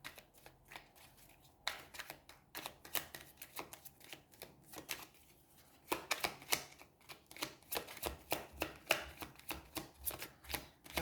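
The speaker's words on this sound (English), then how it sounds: "I have to be a little bit careful when I'm shuffling the cards because they are a little slippery" Slippery tarot cards are shuffled repeatedly, with quick riffling flutters and soft slaps in irregular bursts, close by and fairly quiet.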